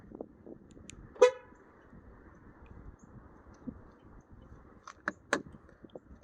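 A 2015 Nissan Altima gives a short, sharp horn chirp as it is locked with a remote key fob, a single toot heard nearby in a quiet space, followed by faint clicks.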